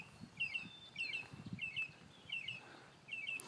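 Repeated short, high whistled bird calls about every 0.7 seconds, a mockingbird mimicking a killdeer's call, moderately faint over low outdoor rumble in a yard.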